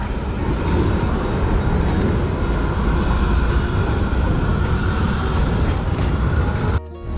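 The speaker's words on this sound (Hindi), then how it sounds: "ये इनकी ट्राम है।" A tram running through Frankfurt, Germany, a loud steady rumble and rolling rattle of wheels on rails heard from close by, ending in a brief drop and clatter.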